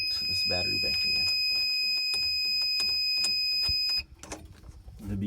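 A steady high electronic beeping from a solar power system runs under clattering activity and noise, then cuts off abruptly partway through when a battery bank is connected, leaving quieter mechanical sounds as a compressor runs.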